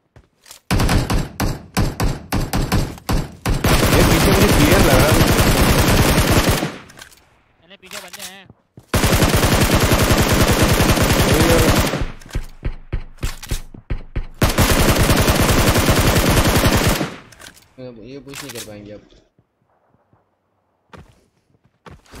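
Loud bursts of rapid automatic gunfire in PUBG Mobile, several long volleys separated by brief pauses and scattered single shots.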